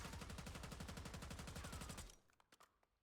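GPR 91 rifle in a video game emptying a full magazine in one continuous rapid automatic burst, loud and steady, ending abruptly and followed by a few quiet mechanical clicks.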